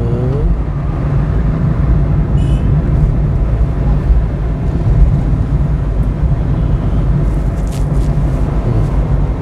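A car engine hums and pulls steadily under acceleration from inside the cabin, a loud continuous low drone with road noise and no clear rise or fall.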